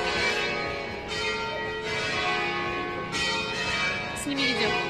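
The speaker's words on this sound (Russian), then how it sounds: "Не знаю, откуда колокольный звон, но очень красиво." Church bells ring somewhere in Genoa, sustained metallic tones hanging over a busy city background, with the chimes swelling and fading in a few waves.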